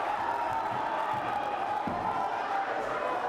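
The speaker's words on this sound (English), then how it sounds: "And the crowd is going nuts here." A boxing arena crowd roars in a steady, dense wash of cheering and whoops during a bout between Moralde and Aducal, with a commentator's voice talking over the din.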